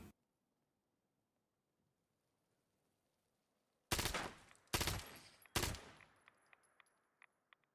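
Game gunfire in Fallout 76: after near silence, three loud, close shots or short bursts ring out about a second apart, each trailing into a decaying echo, followed by a few faint clicks.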